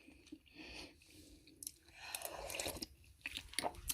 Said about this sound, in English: I'm like chewing in your ear.